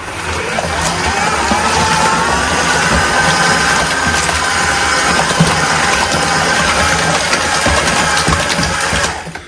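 An electric mixing paddle whirs steadily through fresh multi-finish plaster, giving a continuous motor drone with a churning, gritty texture that holds at an even level for the whole stretch.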